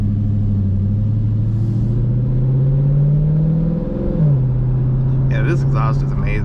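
A 2022 Dodge Challenger R/T with a Borla ATAK cat-back exhaust rumbles loudly and steadily, its deep engine tone rising slightly and dipping once before settling, with a voice briefly heard near the end.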